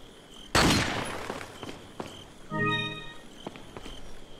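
Gunfire in Resident Evil 4 rings out as a sharp, loud blast followed by fainter shots and footsteps, then a brief tonal game effect.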